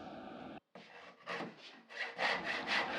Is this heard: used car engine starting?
no